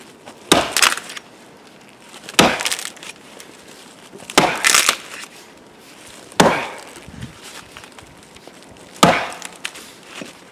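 An axe strikes wood while felling a tree, five sharp loud chops spaced about two seconds apart, each followed by a brief woody crack and splinter.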